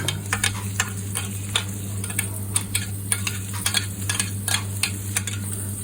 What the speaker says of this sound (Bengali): গাজর দেওয়ার পরে আমি নেড়ে চেড়ে তারপর বাকি সবজিগুলি আবার এক এক করে দিয়ে দেবো এটা পেঁয়াজ কলি ক্যাপসিকাম